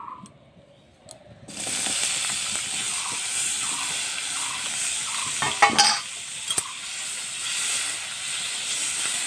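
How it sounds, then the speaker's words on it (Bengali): Chopped tomatoes sizzle steadily in homemade ghee in a wok, with close scraping and stirring strokes. It starts nearly silent, then the frying hiss jumps in loudly and keeps going with a few sharper clatters, and no one speaks. "টমেটোটা আমি ঘি দিয়ে হালকা একটু ভেজে নিয়েছি"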